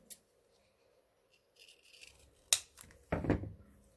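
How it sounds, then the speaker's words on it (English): Scissors snip the corners of a paper card in a quiet crafting setup, a few short crisp cuts and rustles, the louder snips coming in the final second and a half. "So I'm gonna take my corner and trim all of my corners"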